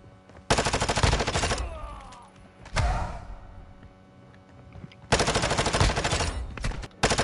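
Automatic gunfire in a first-person shooter video game, three long loud bursts of rapid shots separated by short pauses, with a brief thud between them.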